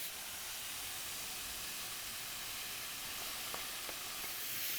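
Thinly sliced leeks and green peppers frying in olive oil in a pan: a constant broad hiss and sizzle, loud and close, with a few faint scraping ticks and no speech.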